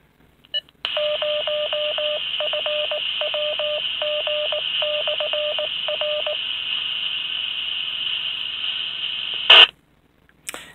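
An Anysecu W-5 UHF handheld radio receives a repeater signal: a sharp click, then a steady loud carrier tone overlaid with a rapid series of beeping data tones, ending in a burst of static and a squelch cutoff.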